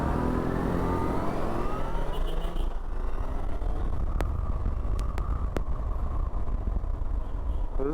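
A Yamaha FZ6 motorcycle accelerating hard through Bangalore city traffic, its engine note rising steadily under loud, constant wind rush, with a few faint clicks later and no talk.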